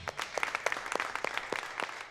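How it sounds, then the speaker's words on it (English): A small crowd claps for a dance group just named national champions: sparse, uneven, fairly faint handclaps that ring out individually rather than merging into a roar. "Give them a round of applause."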